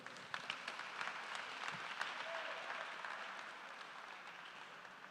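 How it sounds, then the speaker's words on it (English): Audience applause at the official launch of the Tshwane Society of Advocates as a guest is welcomed on stage, steady and moderately distant clapping that holds evenly for several seconds, fairly quiet overall. "Please make a big round of applause for him."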